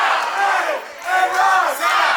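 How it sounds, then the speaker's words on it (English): A wrestling crowd cheers and roars in an arena, loud swelling chants rising and falling in waves, up close and filling the space with no commentary over it. "but listen to this crowd"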